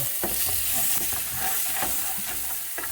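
Onions fry in olive oil with a constant sizzle, broken by several sharp scraping stirs of a utensil against the pan; no talking.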